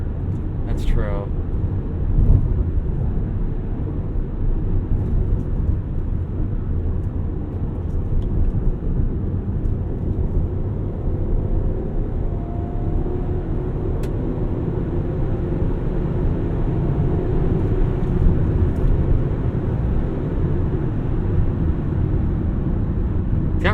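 Steady engine and road drone from a 2001 Toyota Camry LE with a V6 and manual transmission on a test drive, continuous and fairly loud throughout, with a brief click near the start.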